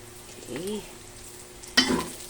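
Sotanghon guisado with onions is stirred in a pan, with a brief scrape and sizzle, then a sharper clatter of the utensil near the end over a quiet background.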